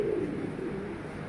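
A soft, low cooing from pigeons or doves runs steadily through the moment, close by and fairly even in loudness.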